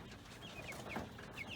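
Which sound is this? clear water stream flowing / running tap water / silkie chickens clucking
silkie chickens clucking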